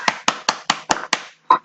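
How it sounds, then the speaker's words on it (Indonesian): Several sharp hand claps land in an even rhythm, about five per second, loud and close, followed by a short pause and one more clap, with no other sound between them. "Tepuk tangan."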